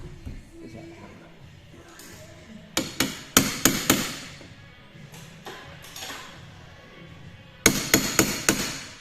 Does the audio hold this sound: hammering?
yes